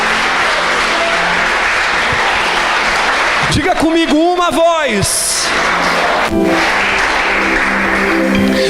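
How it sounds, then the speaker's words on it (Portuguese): A church congregation applauds loudly in a broad wash of clapping while a pastor speaks over it into an amplified microphone. The applause continues after his phrase and swells again. "levanta as duas mãos, porque uma é pouco, e aplaude bem forte ao nome de Jesus"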